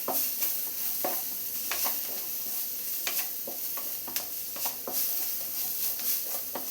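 Egg mixture being stirred with crushed chilli, pepper powder and Kashmiri chilli powder in a bowl, close repeated whisking and scraping strokes with light clinks against the side.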